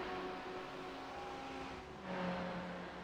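A GTE-class race car spins out in the iRacing sim at Road America, heard as a steady engine drone whose pitch shifts and dips partway through, staying fairly faint throughout.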